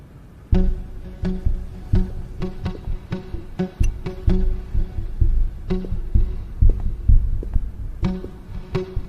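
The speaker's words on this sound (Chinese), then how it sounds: "人在紧张的时候会心跳加速。" Heartbeat sound effect in a Chinese drama series, a series of deep, close thumping beats in uneven clusters with a low hum beneath, loud and without speech.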